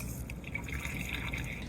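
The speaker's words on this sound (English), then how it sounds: "It takes about 25 minutes for us to fill up our tanks with the marine water" Water runs into a sailboat's tank in a brief, quiet, continuous fill with faint gurgling and splashing.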